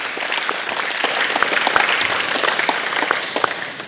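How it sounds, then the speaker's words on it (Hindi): A crowd claps loudly for wrestlers, sustained applause with sharp individual claps standing out, alone and without talk. "सभी पहलवानों के बाद जोरदार तालियां बजती रहनी चाहिए थोड़ी देर तक के लिए।"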